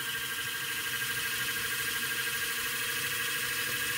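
A compass magnet motor's armature spins, driven by a DC motor pushing against magnets, giving a steady thin electric whir with a faint high whine, close and fairly quiet, with no talk.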